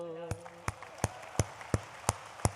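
Applause at a Hindi poetry recital, heard as eight sharp, evenly spaced loud claps in a steady rhythm. A sustained voice tone fades out beneath the first claps.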